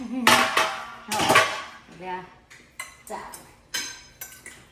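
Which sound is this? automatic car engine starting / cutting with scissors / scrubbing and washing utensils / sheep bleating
scrubbing and washing utensils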